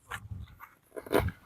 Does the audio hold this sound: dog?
yes